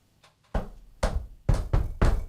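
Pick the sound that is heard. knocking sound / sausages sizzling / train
knocking sound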